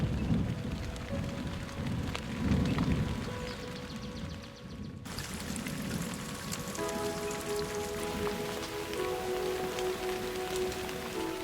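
Steady rain falling on surfaces in a forest tiger habitat, a dense continuous patter of drops with a low rumble beneath, loud and close throughout.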